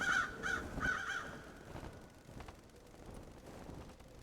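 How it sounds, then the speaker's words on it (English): Crows cawing in the video game Paradise Killer, a few loud harsh calls in the first second or so, then a low murky game ambience with scattered soft thuds. "There are crows here."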